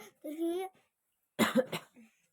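A voiced sound, then after a short pause a burst of rough, close coughs, two or three in quick succession.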